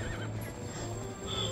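A black horse whinnies in the video game The Legend of Zelda: Twilight Princess, a wavering neigh followed by faint clip-clop hooves over game music.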